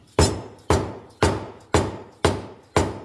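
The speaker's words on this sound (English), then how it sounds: "So we're just going to tap this cover" Hammer strikes on a John Deere 425/445/455 rear PTO cover, six sharp metallic taps evenly spaced about half a second apart, close and clear with short ringing decay.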